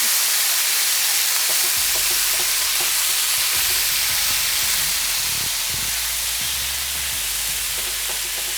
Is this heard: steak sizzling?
yes